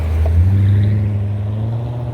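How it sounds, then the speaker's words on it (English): Corvettes, including C8, C4, C7 convertible and C5 models, roll past in a 2025 parade, a steady close engine drone and rumble with no talk. "It's just Corvettes as far as the eye can"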